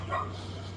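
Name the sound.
dog barking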